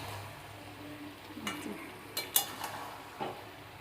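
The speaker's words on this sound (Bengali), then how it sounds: "এবার নাড়াচাড়া করতে সুবিধা হচ্ছে, না হলে প্রথম তো নাড়তেই পারছিলাম না" Salted mixed vegetables cooking down in a pan, with a faint background sizzle broken by several close scraping stirs and light clinks of a spoon against the pan.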